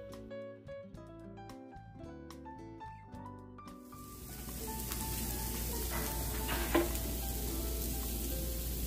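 Potatoes frying in a pan for a Spanish tortilla: a steady, fairly loud sizzle rises after about four seconds and continues to the end, preceded by quieter music.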